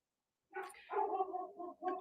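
A pet dog giving a short run of yips and whimpering barks at home after a moment of silence, fairly close and alone without talk.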